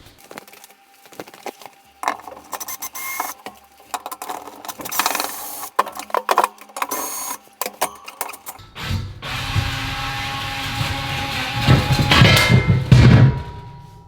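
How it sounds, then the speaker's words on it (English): Screws being undone with a screwdriver on the fan cover of a Zanussi ZOD580 oven that is not heating, close-up metallic clicks and scraping in irregular bursts, then a steadier rattling and handling noise toward the end. "So I'm going to use the screwdriver, and I'm going to try to undo those screws."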